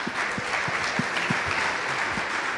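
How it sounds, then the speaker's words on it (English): Conference audience at a summit stage clapping steadily, a continuous even wash of applause heard at moderate distance without voices. "Big applause to these three geniuses"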